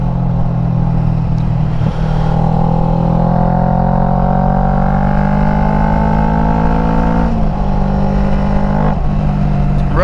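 Motorcycle riding over a rough road, its engine droning loudly and steadily up close with a slowly rising pitch and small bumps and rattles, with no voices.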